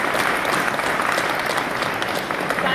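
Sustained audience applause at the Politicon political convention, a dense steady wash of many hands clapping that fills the whole stretch with no pause.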